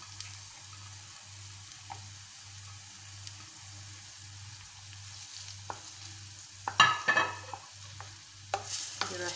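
Onion and chopped pepper sizzle softly in a pan while cooking for a sardine kofta tagine, over a steady low pulsing hum, with utensil clatter and stirring near the end.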